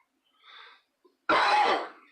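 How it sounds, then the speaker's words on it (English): A faint breath, then a single harsh cough up close, loud and abrupt against silence. "I wonder why I cough so much."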